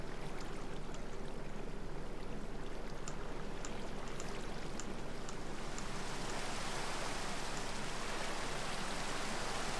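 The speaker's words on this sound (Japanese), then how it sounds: "めっちゃ吹雪いてるやん" A blizzard snowstorm in the video game Minecraft makes a constant, dense hiss like heavy rain and wind, steady throughout and growing slightly brighter in the latter half, with no voices.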